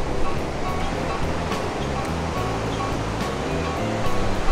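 Pacific Ocean waves rolling onto the beach at Rincon Parkway campground, a steady loud wash of surf with low rumbling swells throughout.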